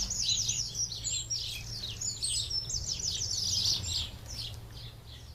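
Birds chirp at dawn in a steady chorus of quick, high tweets and trills, moderately near, over a low constant background hum with no talking.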